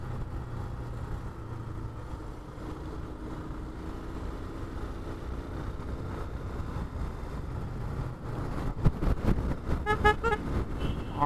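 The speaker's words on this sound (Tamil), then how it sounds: "ஹாரன் அடிச்சுக்கிட்டே இருங்க." Car horn toots rise out of steady road and engine noise near the end, a cluster of short honks from a car driving on a rural road toward Mamandur Waterfalls near Tirupati.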